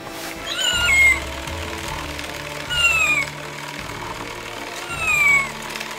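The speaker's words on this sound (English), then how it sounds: "Oh, you poor kitten." A kitten meows three times in slow, even succession, each a short falling cry standing out over a steady low rumble.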